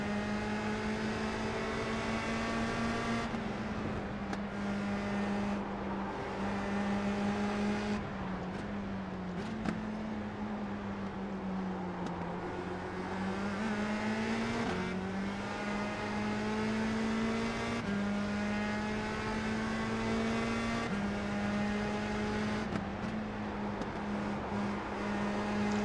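USF 2000 race cars in the iRacing game at Mid-Ohio, a steady high-pitched engine drone held for the whole stretch with small shifts in pitch as the car accelerates and lifts, loud and continuous with no talk.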